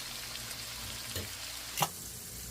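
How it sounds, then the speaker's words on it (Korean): Meatballs sizzle quietly in a pan, a steady faint frying hiss broken by a couple of brief scraping clicks as a spoon rolls them around, with no talking. "만든 볼을요 올려놓고 굴려가면서 구워줍니다"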